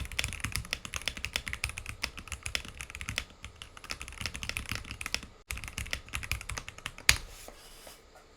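Soft-sounding computer keyboard from a budget gaming setup typed on quickly and continuously, dense clicking keystrokes close to the microphone with a brief pause near the end.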